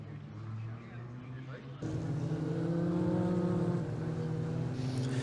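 Formula Ford race car at Croft circuit heading out on track, a steady engine drone that swells louder partway through and holds, with a voice talking over it.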